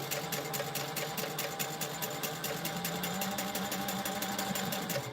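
Sewing machine basting a sling, a steady close whirring run with a fast even stitch rhythm throughout, moderately loud and without pauses or talk.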